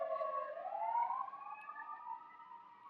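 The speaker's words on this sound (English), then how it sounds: "sorry, I just want the siren to pass" A siren wails outside, a single rising and falling tone that sweeps upward and holds steady, moderately distant and fading slightly as it passes, alone with no talk.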